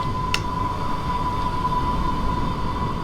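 A train departing Lake station on the Island Line in Train Sim World 2, with a steady loud rumbling drone, a sustained tone and one brief click near the start, no speech.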